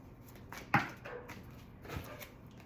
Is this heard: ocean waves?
no